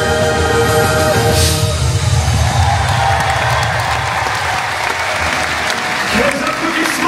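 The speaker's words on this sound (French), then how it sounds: "Les applaudissements pour les jurors." Audience applause at a Disneyland Paris rock opera, Alice and the Queen of Hearts, a loud sustained wash of clapping and crowd noise running throughout, close and dense.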